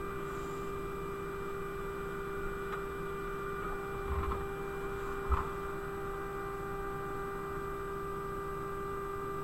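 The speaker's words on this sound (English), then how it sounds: "That printer sounds like my printer" A 3D printer runs with a steady motor whine over a constant electrical hum, broken by a couple of faint clicks and soft knocks; nobody speaks.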